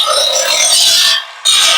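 Someone rubs or grinds down welded canopy joints, making a bright, harsh rasping stroke that runs for over a second, breaks off briefly, then starts again, close and loud.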